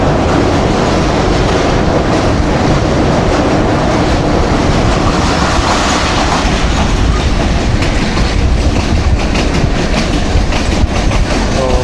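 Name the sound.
train crossing the Jhelum river bridge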